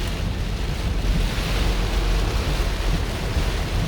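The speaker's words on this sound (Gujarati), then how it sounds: "ખૂબ મોટા પ્રમાણમાં વરસાદ પડે છે" Heavy rain lashes down outdoors near Porbandar, between Ranavav and Bileshwar, a loud continuous roaring wash mixed with gusty wind buffeting.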